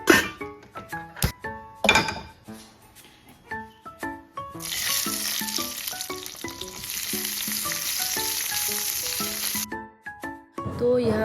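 Silkworms with roselle leaves fry in a pan over a low flame, a loud continuous sizzle with frequent clinks and scrapes of a spatula against the pan.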